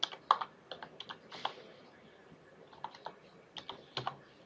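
Someone types a property search query on a computer keyboard, with close, crisp keystrokes in irregular bursts and short pauses between words.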